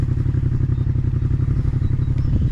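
A motorcycle on a road trip through the Loir-et-Cher is kick-started, its engine catching and chugging loudly and close with clattering mechanical knocks throughout.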